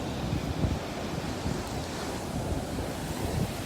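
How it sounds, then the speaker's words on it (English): Ocean waves wash steadily onto a rocky beach where the tide pushes stones forward, a continuous broad surf roar with gentle swells and some wind buffeting the microphone, no voices. "But I just thought I'd show you the waves."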